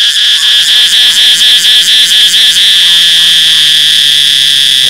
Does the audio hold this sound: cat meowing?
no